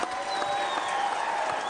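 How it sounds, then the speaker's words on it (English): Brief, fairly faint audience applause at a live radio show event, scattered clapping heard at some distance under a faint tonal hum. "One last round of applause"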